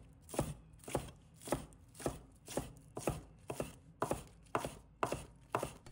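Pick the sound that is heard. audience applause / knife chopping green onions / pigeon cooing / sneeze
knife chopping green onions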